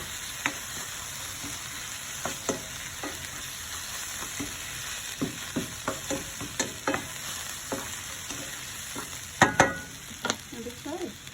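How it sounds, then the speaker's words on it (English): Bacon fries in a pan with a constant crackling sizzle, punctuated by a steady series of spatula clicks and scrapes that grow louder near the end. "I'm going to throw my bacon back in."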